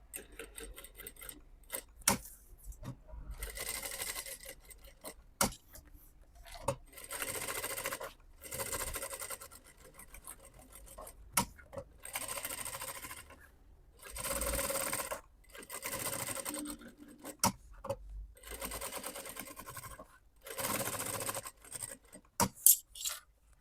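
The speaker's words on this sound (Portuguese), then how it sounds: "Agora, eu vou passar uma costura em toda a volta aqui, ó, da minha peça," Sewing machine stitching a lining around the edge of a synthetic mirror-panel handbag piece, running in repeated short bursts of rapid needle chatter separated by brief pauses, close and alone.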